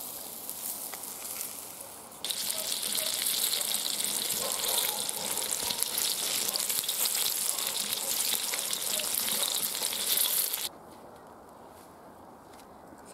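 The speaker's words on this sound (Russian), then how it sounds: "И жарим так остальную рыбу." Carp sizzles loudly in hot oil in a cauldron over a campfire, a steady crackling hiss that starts abruptly, runs for several seconds, then drops back to a quiet background.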